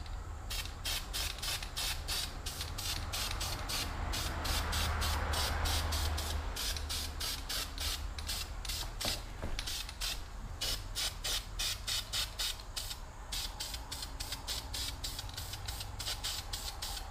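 A spray can paints a wheel in a long run of short, sharp hissing bursts in a steady rhythm, close and fairly loud, with a continuous hiss partway through and no talk.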